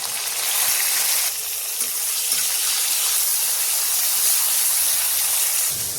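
Green chillies, potatoes and beans fry in hot oil in a wok, giving a loud, steady sizzle that hisses unbroken throughout.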